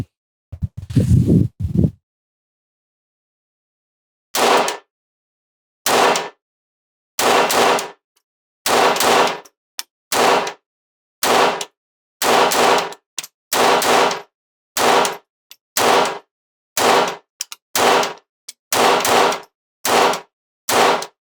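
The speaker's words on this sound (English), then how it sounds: "We'll do another 20 shots and we'll mix in some double taps." A Smith & Wesson M&P 22X .22 pistol fires at an outdoor range in cold weather, a long string of sharp, loud shots after a brief rustle, with some fired as quick double taps and short pauses between.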